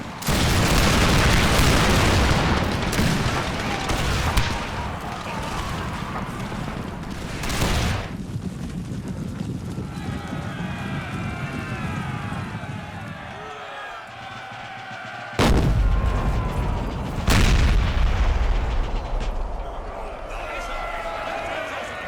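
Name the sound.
musket crossfire and artillery in video game Empire: Total War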